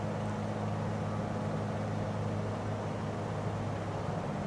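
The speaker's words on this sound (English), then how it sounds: "I will get to the point where there's just not enough fuel to run the engine." Steady drone of a bush plane's piston engine with a constant-speed propeller, its mixture being leaned toward fuel starvation; a continuous, even hum with no voices.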